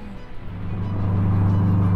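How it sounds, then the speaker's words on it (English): A car accelerates on a steep mountain road, recorded from the dashcam inside, with the engine note building to a loud, steady low drone over two seconds. "he decides to really give the car some gas"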